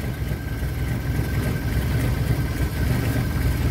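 An old Rural car engine runs steadily with a low, rumbling throb that holds an even drone, loud and close, with no voices over it.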